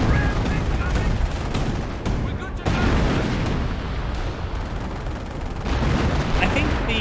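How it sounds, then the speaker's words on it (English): Artillery barrage and gunfire in the strategy game Company of Heroes: dense, continuous rumble of explosions and rattling fire, loud and unbroken for the whole stretch with a brief dip midway, under a commentator's voice. "He's just getting ripped apart by the artillery."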